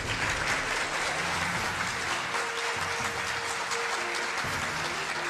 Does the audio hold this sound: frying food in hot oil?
no